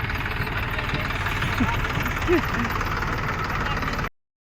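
A tractor, fully loaded with fodder in a field, idles in a steady, low engine rumble continuously and fairly close, with a faint voice or two briefly heard over it before it cuts off.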